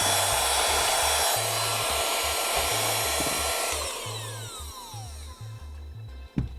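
A small electronics-cleaning vacuum whines steadily and loudly while trying to suck up a Torx bit, a hard rattling buzz pulsing underneath, with the motor winding down and fading near the end.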